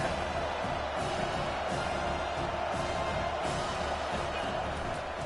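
A steady, dense crowd roar fills a stadium in an NCAA college football video game during Ole Miss versus Arkansas, holding loud and unbroken throughout.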